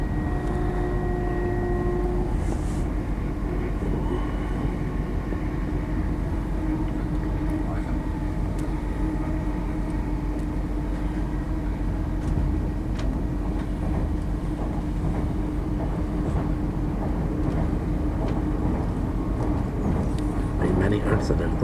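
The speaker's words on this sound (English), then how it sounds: "Where the train slows right down to a 90-degree bend." A train slowing on a 90-degree bend through Morpeth, a continuous low rumble with faint squealing tones early on and scattered clicks of wheels on rail, steady and fairly quiet, with voices occasionally under it.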